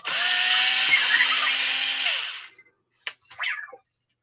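A power driver whirs loudly for about two seconds while removing micro screws from a Losi Lasernut front differential, then winds down, followed by short clicks and a brief squeaky rattle of small parts.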